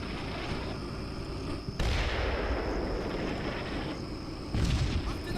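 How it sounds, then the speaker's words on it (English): Mortar barrage in the wargame Combat Mission: Shock Force 2, a steady roar of distant rumbling blasts with two louder impacts swelling in, no talk over it. "Mortar barrage is still going strong."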